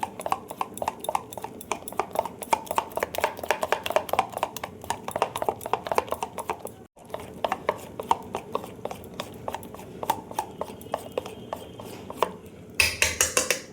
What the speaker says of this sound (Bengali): ফেটিয়ে নেব, যত ফেটাবে তত সুন্দর মতন বড়াগুলো তৈরি হবে।